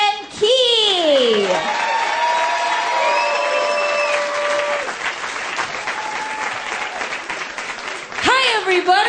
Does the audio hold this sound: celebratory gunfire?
no